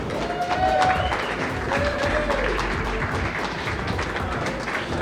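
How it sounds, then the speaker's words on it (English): An audience at an IPL esports tournament applauds the winner, LucifroN, with steady clapping that carries through the whole stretch while a voice speaks over it. "Big round of applause for him once again."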